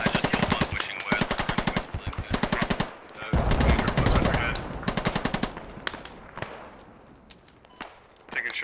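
Gunfire in a 100-player military simulation squad PvP video game: rapid automatic bursts and machine-gun rattles, loud and close, with repeated volleys, then quieter scattered shots while voices talk over the fighting.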